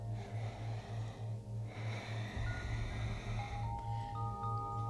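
Slow, deep breaths during a yoga flow for the neck and throat, a soft airy exhale giving way to a long inhale, heard close over a steady low hum and a faint rhythmic pulsing background.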